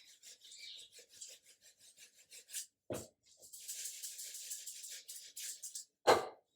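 Ground nut flour being shaken to sift it, giving a run of short rhythmic rasping pulses with a few sharper knocks, close and moderately loud, with no talking.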